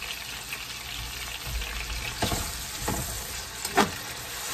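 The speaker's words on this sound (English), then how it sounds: "He's gonna start with the vegetables and get that sauteed." Vegetables sauté in a pan with a steady close sizzle, punctuated by a few scraping stirs, no talking.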